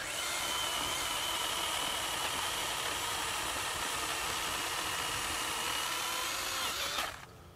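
A SKIL 40V cordless pole saw cutting through a roughly six-inch-thick branch, a steady loud motor whine held for about seven seconds before spinning down abruptly near the end.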